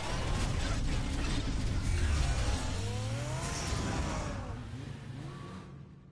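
A Batmobile shifts into supercar form in the Batman Telltale video game, giving a continuous mechanical whir with rising and falling tonal sweeps and clanks. It stays close and steady, then fades out near the end without any voices.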